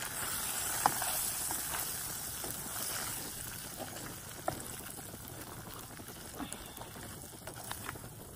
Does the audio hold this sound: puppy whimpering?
no